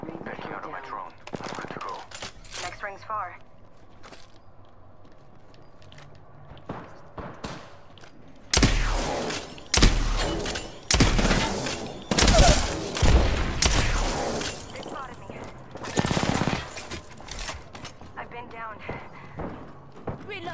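Bursts of gunfire in the Apex Legends battle royale game, loud rapid volleys crackling through much of the stretch, with a player talking over the shooting.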